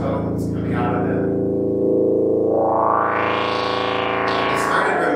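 An old analog synthesizer plays deep, growling, distorted tones, with a sweeping filter that rises and falls under a voice talking.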